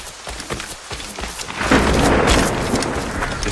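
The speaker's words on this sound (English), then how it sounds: "The storm's getting worse." A thunderstorm in Assassin's Creed Rogue: steady heavy rain hisses throughout while a deep rumble of thunder swells midway and lingers, loud and enveloping.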